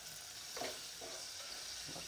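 Tomatoes sizzle and fry in a pan for khichdi, with a soft steady hiss and a few faint stirring scrapes, no talking.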